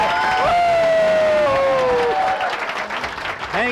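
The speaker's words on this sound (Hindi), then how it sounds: "तालियां जोरदार" Applause and cheering from a crowd at a success-story celebration, steady clapping under a loud sustained whistle or shout that slides downward, with voices rising over the crowd.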